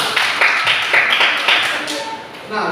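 Classroom applause for a classmate named Mary: several short bursts of clapping, with voices heard alongside.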